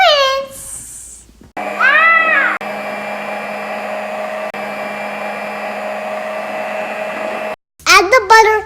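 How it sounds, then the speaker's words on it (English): An electric mixer whirs through the dry ingredients for gingerbread cookie dough, a steady motor drone of several seconds, framed by short bursts of voice-like sounds at the start and end. "Now let's mix up the dry ingredients in 2 minutes."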